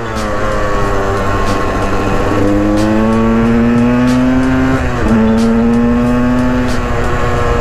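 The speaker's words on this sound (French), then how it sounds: "le bruit du deux temps, je m'en lasserai jamais." Two-stroke KTM 125 EXC enduro motorcycle engine revving loudly and close, its pitch climbing and holding in sustained high-rpm pulls with a brief dip midway, no talk over it.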